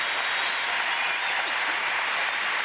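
Steady, dense applause from a gymnastics arena crowd after a daredevil uneven bars release with a double twist over the low bar, a continuous roar of clapping filling the whole stretch without a break.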